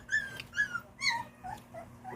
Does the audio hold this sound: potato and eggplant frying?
no